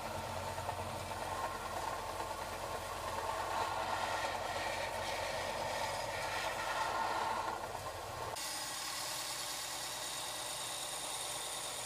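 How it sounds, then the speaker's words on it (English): A cheap consumer belt grinder, bought for about 80 dollars, runs steadily while grinding bevels on a knife blade, producing a continuous broadband roar. The tone shifts abruptly near the end as the load changes. "I use the same machine to grind the bevels on the knife."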